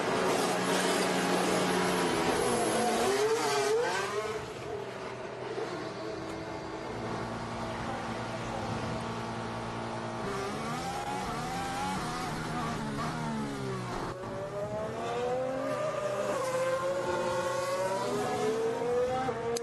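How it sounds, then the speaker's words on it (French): A Formula 1 car at the 2021 Dutch Grand Prix practice session, heard as a loud high engine whine that drops sharply as it brakes into the pit lane, then steady buzzing tones at pit limiter speed. "Et le retour au stand, freinage tardif pour atteindre les 60 km/h du pit limiteur."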